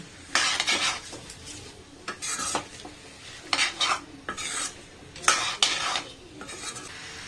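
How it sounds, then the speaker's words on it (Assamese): Duck meat with ash gourd being stir-fried Assamese style in a pan over a medium flame, heard as a run of separate scraping and stirring bursts with a soft sizzle underneath, close by and with no talk. "আৰু এইখিনি মিডিয়াম ফ্লেমত অকণমান ভাজিম।"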